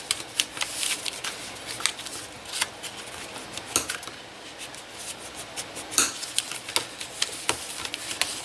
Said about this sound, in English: Go ahead and use your bone folder to kind of